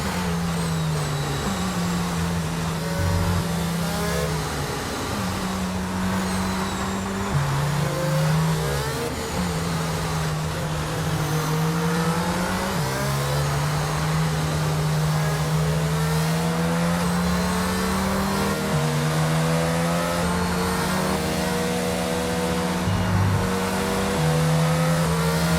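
F1 race car engine in F1 22 at the French GP, a steady high-pitched drone that rises and drops as the car shifts gears, loud and continuous throughout with no talking.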